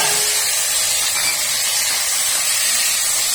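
Asafoetida and other ingredients hit hot oil in a pan, a loud, steady sizzling hiss that holds evenly throughout.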